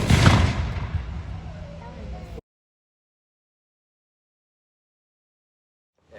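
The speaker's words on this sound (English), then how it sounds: "Bring the musket to the full cock here. Present! Level towards the enemy. And you all know the last one. Fire!" Muskets fired together in a single volley at a historical demonstration: one loud blast with a long rumbling decay lasting a couple of seconds, then silence.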